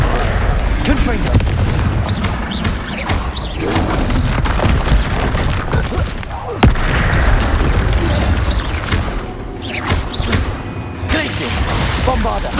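Spell blasts from the Confringo fiery blasting spell in Hogwarts Legacy, with other combat spells such as Bombarda and Glacius in play, come as repeated booming bursts over a dense, continuous din of game battle noise, with voices calling out.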